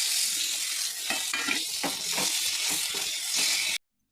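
Tomatoes hit a hot pan of ginger and garlic and sizzle loudly and steadily, with brief stirring scrapes and clatter, until the sound cuts off abruptly.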